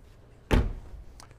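A 2018 McLaren 720S door opens with one firm mechanical thunk up close, followed by a soft faint click a moment later.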